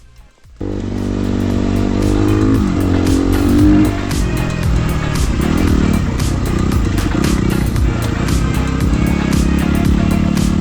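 A motocross bike converted for enduro use, its engine running loud and close after a suspension valving job, with a steady throaty idle rising into sustained revving and engine clatter.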